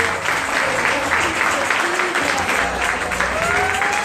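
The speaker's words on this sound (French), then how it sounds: "des gros applaudissements pour eux." Audience applause at a startup pitch session event, a dense, steady wash of clapping lasting the whole stretch at close range, with a few voices faintly mixed in.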